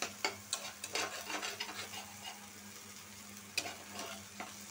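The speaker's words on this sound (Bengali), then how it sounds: "আমি আলাদা কোনো তেল ব্যবহার করি না, চিচিঙ্গা ভাজি থেকে তেলটা বের হইতেছে, ওটা থেকেই ডিমটা আমার ভাজা হয়ে যাইতেছে।" An egg fries in oil released by snake gourd fry, giving a low continuous sizzle broken by repeated scraping strokes of stirring, with a steady hum underneath.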